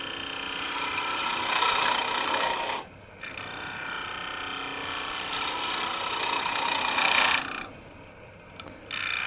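A wood lathe turns the thin bottom of a fork-in-the-limb bowl while a tool scrapes against the spinning wood in two long, raspy passes. Each pass builds louder, then drops off abruptly in short pauses between cuts.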